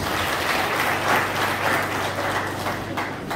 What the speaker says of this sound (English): Can we give them a bigger round of applause?